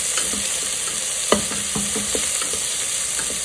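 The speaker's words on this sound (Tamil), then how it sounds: "வெங்காயம் கொஞ்சம் வதங்கட்டும்." Onions sauté in a pan with a continuous sizzle and a few distinct spoon knocks and scrapes against the metal.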